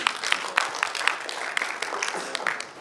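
An audience at an Urdu poetry mushaira applauds a poet, producing a light, fairly distant patter of many hands, sharper claps poking out of a continuous soft wash, with no voices.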